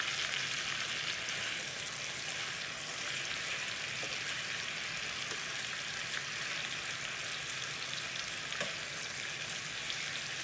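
Chicken pieces browning in a pot for Caribbean stewed chicken, giving a steady, dense sizzle and frying crackle that runs unbroken throughout at moderate closeness, with no voices.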